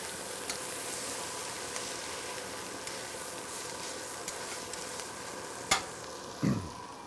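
Onions, carrot, celery and garlic caramelizing in a pan make a steady, soft sizzle, with occasional light clicks of stirring and a louder scrape near the end.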